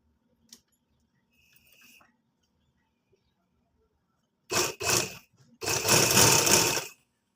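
A sewing machine stitching along a pressed crease in garment fabric. Two short close bursts of whirring are followed by a longer continuous run, with quiet pauses between and no talking.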